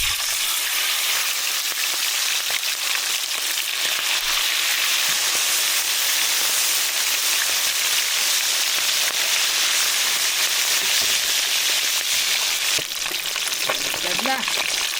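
Steady, loud sizzling and crackling of fish frying in hot oil, a continuous hiss with popping spatters throughout and no voices.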